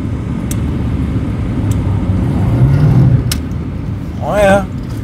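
A 1993 GMC Jimmy 4x4 with a swapped-in V8 rumbles along a snowy, icy road, its engine droning low and steady inside the cab, swelling briefly, with a short spoken remark near the end.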